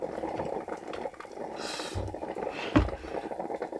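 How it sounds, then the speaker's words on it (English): Coffee boiling on a camper van stove powered by a small Bluetti power station, a steady close bubbling hiss with occasional louder pops and gurgles, no talk. "Coffee's definitely boiling away now."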